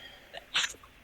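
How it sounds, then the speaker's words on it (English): A single sharp sneeze bursts out in a quiet room, preceded by a short intake of breath, close and brief against faint background hiss. "I think somebody sneezed."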